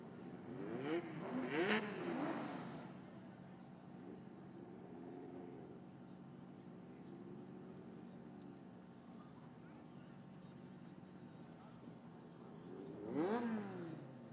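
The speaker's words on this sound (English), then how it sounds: "Mustang against E63 Mercedes-Benz Benzolini." Ford Mustang soft top and Mercedes-Benz E63 drag racing at a no-prep strip in Toronto: engines roar in bursts near the start and again near the end, with a steady mid-level drone between and voices mixed in.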